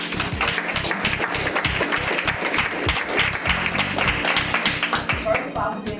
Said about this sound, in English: I'm going to applaud Diane again.